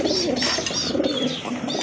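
Domestic and fancy pigeons coo softly and repeatedly close by, a low throaty burbling with a faint chirp behind it.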